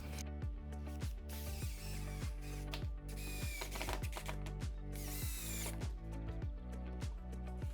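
Power drill driving 2.5-inch screws into 1.5-inch lumber for a budget desk build, a loud steady whine with repeated short pulsing bursts and tonal shifts as screws bite and seat, up close with no talking.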